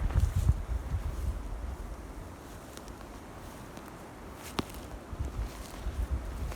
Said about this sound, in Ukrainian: Дуже великий вітер.